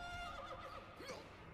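A horse whinnies in an Attack on Titan anime episode, one long wavering neigh that rises and falls, faint and distant under low background noise.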